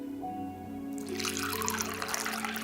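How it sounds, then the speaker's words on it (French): Water pours onto chickpeas, a short splashing pour that starts about a second in over a low steady hum, then keeps going in a close, bright rush. "On va ajouter un peu de l'eau sur notre pois chiche."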